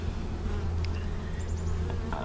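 Honey bees buzz steadily around an open hive during a colony inspection, a close, continuous drone with a few brief higher whines from individual bees passing near, no talking.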